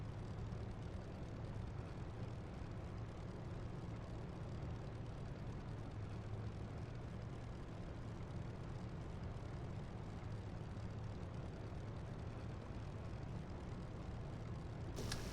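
A propeller airplane engine in a flight simulator game drones at full power for takeoff, a dense, steady roar that stays constant without talk.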